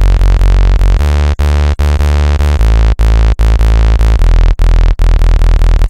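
The default Nexus synth sound serves as a bassline, loud and dense, pulsing in a rhythmic pattern of sustained notes with brief gaps between them, alone without voices.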